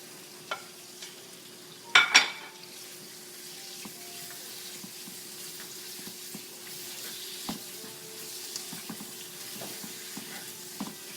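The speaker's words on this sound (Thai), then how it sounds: "ตอนนี้เราก็ลงหมูเลยนะคะ จนกระเทียมมันเหลืองค่ะ แล้วก็ลงหมูนะคะ" Pork goes into hot oil with golden garlic and is stir-fried, a low steady sizzle with a cluster of loud metallic clanks near the start and lighter scrapes and taps of the spatula afterward.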